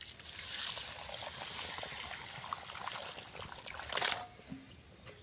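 Hot water poured into lentil dal in a Bengali kitchen, a steady close trickle and splash with a brief louder gush near the end.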